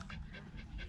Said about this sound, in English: One whiny dog that's afraid of water.